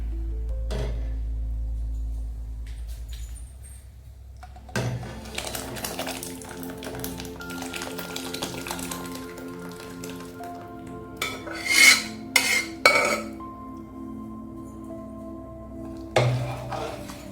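A spoon stirs drumstick sambar in a cooking pot, with intermittent scraping and rubbing against the metal, some louder clinks near the end, and no talking.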